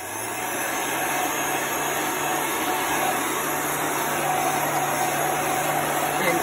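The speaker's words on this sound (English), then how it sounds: "So I have a heat gun here that I'm going to use." A handheld heat gun blows hot air steadily over a towel inked through a Chalk Couture stencil, producing a continuous, even, fan-like whoosh with a faint electric whine, close and loud from start to finish with no talking.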